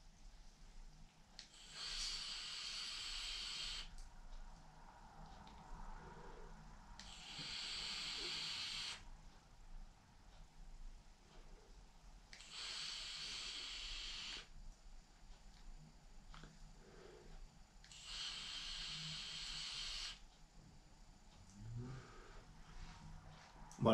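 Vaporesso Gen Fit 40 vape kit with a 0.6 ohm Corex coil at 22 W, drawn on in four evenly spaced, steady, soft hissing puffs of about three seconds each, with quiet pauses between.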